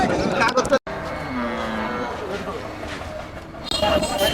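Cattle moo repeatedly amid a busy crowd of chattering voices at a city livestock market before Eid sacrifice, with people talking close by throughout.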